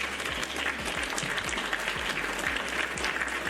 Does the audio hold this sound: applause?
yes